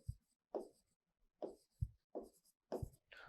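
A marker writing on a board in a Class 12 physics lesson makes a series of separate short scraping strokes with quiet gaps between them. The strokes are close and fairly clear, with no voice.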